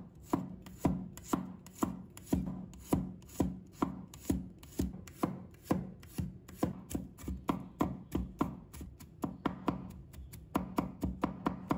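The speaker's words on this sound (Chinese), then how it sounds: "再准备一把大蒜，把它切成末。" A kitchen knife chops garlic into mince on a cutting board, with steady, rapid, close-up thwacks that repeat evenly, then quicken and grow slightly softer toward the end.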